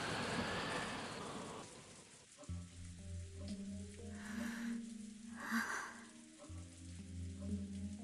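In the Umineko visual novel, a storm's rain and wind hiss for the first second and a half. Soft sustained background music then takes over, with a few brief gusty swells rising through it.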